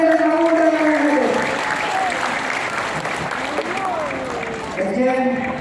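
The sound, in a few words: audience applause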